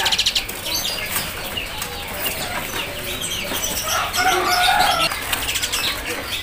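Young Asian pied starlings (jalak suren) flutter in a cage at a bird kiosk, with repeated soft wing flaps and scuffling along with a few chirps, close by, with no talk.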